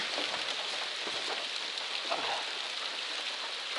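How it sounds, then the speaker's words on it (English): Steady rain falls on a hiking shelter in the wilderness, a dense, even patter of drops on the roof with no voices, constant and close throughout. "And it's raining."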